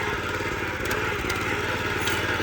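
A tractor engine chugs steadily up close while descending into a field, a loud, continuous low rumble with a rhythmic throbbing and faint clanks on top.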